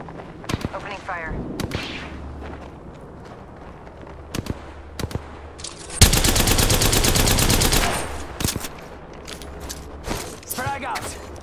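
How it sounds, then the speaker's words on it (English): Video-game gunfire in a tactical shooter: scattered single shots and short bursts, then a loud sustained automatic volley lasting about two seconds, followed by more sporadic shots, with game voices speaking in between. "Opening fire."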